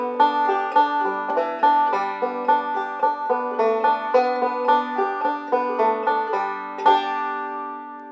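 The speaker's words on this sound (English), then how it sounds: "We're building our banjo break from that banjo melody." Banjo picks a fast break built on forward and reverse rolls, a steady stream of bright plucked notes with ringing strings that ends on a final accented pinch, played solo and close with no talking.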